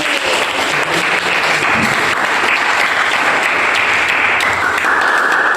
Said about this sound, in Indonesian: Oke, beri tepuk tangan lagi